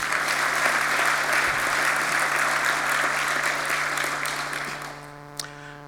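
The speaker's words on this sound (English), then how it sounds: "Big round of applause." Sustained applause from a large crowd at a debate, steady and loud throughout, tapering slightly near the end.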